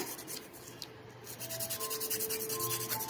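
An acrylic nail on a nail form is filed and shaped with rapid, rhythmic rasping strokes, close and quiet.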